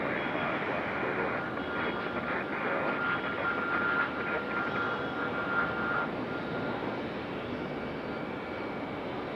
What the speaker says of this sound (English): our last plane of the show finally on the move